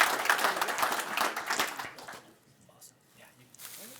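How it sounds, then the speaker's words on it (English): Another round of applause from an audience for a speaker at a technical meetup, a dense clatter of clapping for about two seconds that fades into quiet murmuring and low voices. "another round of applause for"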